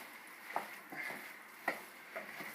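A wooden spoon stirs a potato mixture in a pan over very low heat, making soft, faint scraping strokes at an irregular rhythm with a few sharper knocks against the pan.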